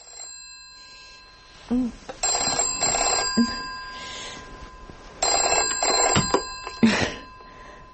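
An old telephone bell rings in repeated trilling bursts indoors, fairly close, with a brief murmur from a person between rings.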